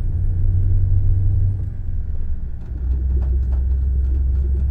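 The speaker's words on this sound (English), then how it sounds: "I don't mind the sound of this truck." A 2017 Scania S730 truck engine in Euro Truck Simulator 2 gives a steady, deep, loud rumbling drone, dipping briefly in pitch before settling into an even low hum, with no talk.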